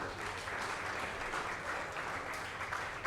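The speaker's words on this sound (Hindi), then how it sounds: "जोरदार तालियां सर के लिए" Strong, continuous applause rises from the crowd at an awards ceremony as an honoree is welcomed, a thick uninterrupted patter of many hands.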